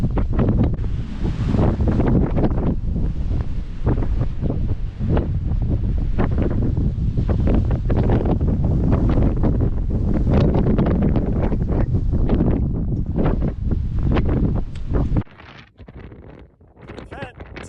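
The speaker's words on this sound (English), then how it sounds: "I think it might get windy." Strong blizzard wind at about 10,000 feet roaring and buffeting close against the microphone in heavy continuous gusts, easing sharply near the end, with a voice speaking underneath.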